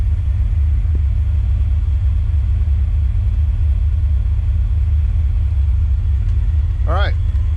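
A car engine with electronic fuel injection runs rich at a steady idle, a loud, close, low rumble that continues unbroken, with a brief chirp near the end.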